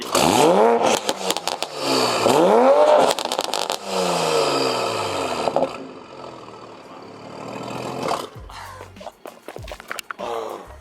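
Tuned straight-piped Toyota Supra engine revving hard, several sharp rising and falling blips in quick succession, then a longer sustained rev that fades and settles into idle, loud and close, with people briefly talking near the end.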